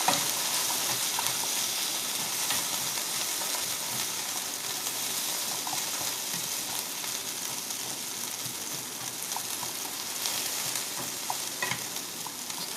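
Potatoes O'Brien sizzle steadily in a hot pan while being stirred, producing a loud, continuous frying hiss with scraping and tossing sounds close by and no voices.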